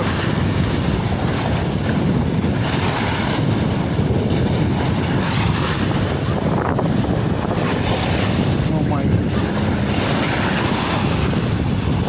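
Continuous loud roar of rushing Dakatia River waves at full high tide, with heavy wind buffeting the microphone throughout.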